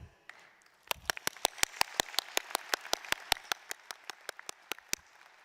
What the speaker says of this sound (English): join me in a great big round of applause for our academic faculty